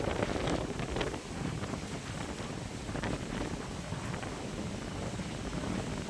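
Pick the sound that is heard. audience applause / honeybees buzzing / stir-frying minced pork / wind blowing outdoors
wind blowing outdoors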